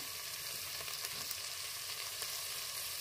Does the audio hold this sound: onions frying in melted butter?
yes